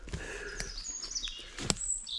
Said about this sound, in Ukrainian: птахи співають